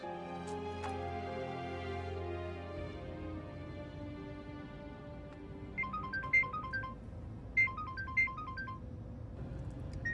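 A telephone ringtone chirps in repeated short electronic bursts, faint and fairly distant, over a low hum with music fading out at the start.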